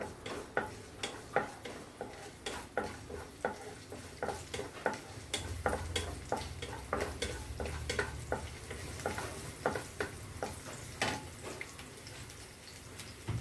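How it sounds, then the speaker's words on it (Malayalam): Finely chopped ginger and garlic sizzle steadily in a hot pan for an egg curry, with regular scraping stir strokes from a spatula ticking over the frying hiss. "ഇഞ്ചി ചെറുതായിട്ട് അരിഞ്ഞതും വെളുത്തുള്ളി ചെറുതായിട്ട് അരിഞ്ഞതും കൂടെ ഇടുക. അത് മൂക്കട്ടെ."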